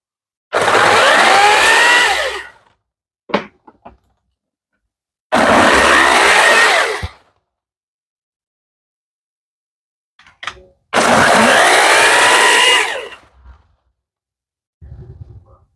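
A cordless Makita pole saw cuts a small tree outdoors in three loud, steady bursts of about two seconds each, with brief snaps and rustles of falling branches in the pauses between cuts.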